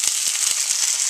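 Sauerkraut sizzles in a hot frying pan, a bright constant hiss with faint crackles, close and steady throughout.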